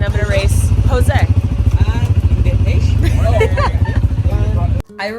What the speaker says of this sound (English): now we're gonna go for a little ATV ride, and I'm gonna race Jose